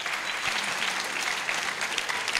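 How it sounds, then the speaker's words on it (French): An audience applauds at a children's Christmas event, with dense, sustained clapping from many hands and a steady crowd texture, loud and close throughout. "Applaudissons beaucoup."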